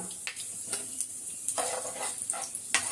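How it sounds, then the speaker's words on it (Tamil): Fenugreek and mustard seeds sizzling in hot oil for a Tamil curry, a soft, close crackle with scattered sharp pops and light stirring scrapes, quiet, with no talking. "அதனால வெந்தயமும் கடுகும் மட்டும் போடுறேன்."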